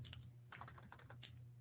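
Quiet typing on a computer keyboard during a radio show, a quick scattered run of soft key clicks over a steady low electrical hum.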